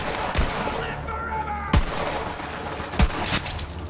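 Pistol shots ring out in the shooter game Borderlands 3: three loud, sharp cracks spaced over a few seconds over a steady bed of game ambience and music.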